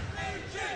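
A crowd at an IPF men's 83 kg world classic powerlifting meet cheers and chants for a lifter, a dense, loud wash of massed voices in a brief burst.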